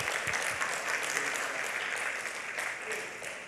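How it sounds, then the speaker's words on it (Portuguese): A church congregation claps together in sustained, dense applause that fills the whole stretch at a steady level, with a few voices faintly mixed in. "Uma salva de palmas para o nosso Senhor Jesus Cristo."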